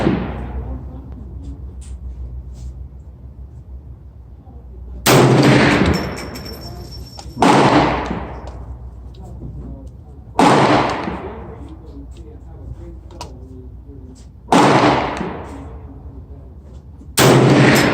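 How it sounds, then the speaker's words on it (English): A Bear Creek rifle chambered in .450 Bushmaster is fired at an outdoor range. Five loud, sharp reports come a few seconds apart, each with a ringing tail, over quiet background hum. "I'm gonna be taking 3 shots to make sure everything cycles well"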